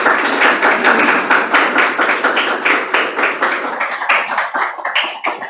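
Hall audience at a book launch clapping loudly and continuously. The many hands blend into a dense wash that settles into a rough rhythmic pulse near the end, with no talking over it.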